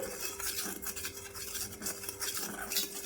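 A spoon stirs salt water in a bowl, making quick, continuous clinking and swishing scrapes against the sides, close and alone.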